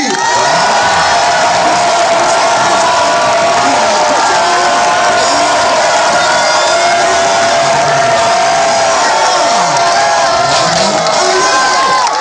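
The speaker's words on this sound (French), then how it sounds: "Je vais t'entendre en train d'acclamer avec les cris." A crowd at a worship gathering cheering and shouting for Jesus, a loud continuous roar of voices with whoops and yells that holds at full strength from start to finish.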